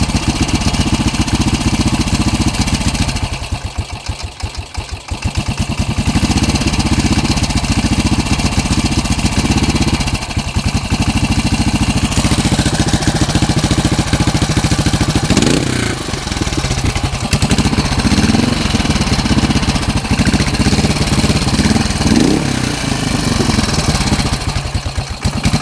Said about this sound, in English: Likes to walk back whenever you give it the gas.